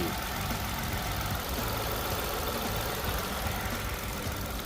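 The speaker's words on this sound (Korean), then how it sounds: "자 엔진 소리" A steady, even idle from the engine of a Chevrolet Spark LTZ city car hums continuously with no revving or pauses, a low broadband drone heard up close.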